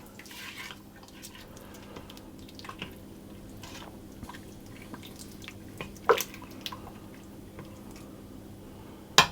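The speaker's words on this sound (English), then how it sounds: "and I'll stir that through." Orzo being stirred through cooked lamb in a pot, soft wet squelches and scattered drips and taps, quiet and close with a couple of sharper knocks near the end.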